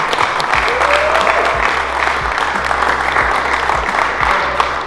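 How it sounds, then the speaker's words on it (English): A dense round of applause breaks out at a dog training pro camp, steady clapping from a sizable crowd, loud and continuous throughout. "So let's give a round of applause."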